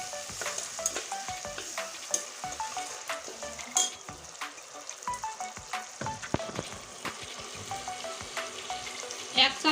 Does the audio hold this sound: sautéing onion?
yes